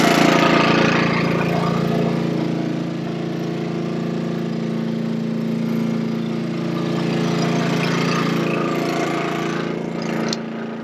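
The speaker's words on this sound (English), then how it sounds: "You're going to hear the generator" A generator drones steadily at a van life camp, a loud continuous low engine hum holding near-constant volume throughout, close by and alone with no voices.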